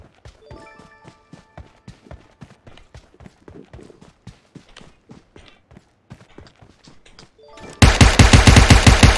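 Rapid bursts of SMG gunfire from PUBG Mobile's zombie mode crackle in a steady run of closely spaced shots, then a sudden, much louder dense burst of firing erupts near the end.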